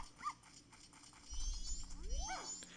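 Dogs at a racetrack in Zelda: Majora's Mask 3D, a couple of faint, brief synthesized yips and whimpers over a quiet, low rumbling game background.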